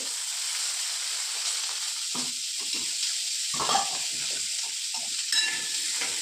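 Ghee sizzles in a hot pan of raw mango preserve, a steady bright hiss running throughout with soft stirring scrapes and a few louder clatters, close by and with no talking.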